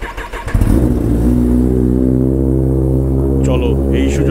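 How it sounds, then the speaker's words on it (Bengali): A Kawasaki ZX-10R superbike engine starts up at dawn and settles into a loud, steady idle as it warms, with a deep throbbing rumble close by after a brief cranking burst. "আর তোমরা বাইকের সাউন্ডটাকে একটু এনজয় করো।"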